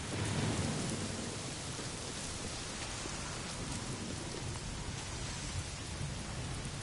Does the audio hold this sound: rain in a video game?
yes